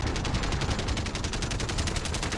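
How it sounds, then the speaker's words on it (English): Rapid automatic gunfire in Call of Duty: Modern Warfare rattles out as a loud, continuous stream of evenly spaced shots with no pause and no voices. "They're shooting at me!"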